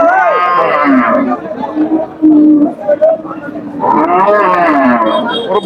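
A crowded cattle market in Manikganj, where bovine lowing sounds of bellowing cattle mix with loud nearby voices talking, the calls rising and falling in long drawn-out tones.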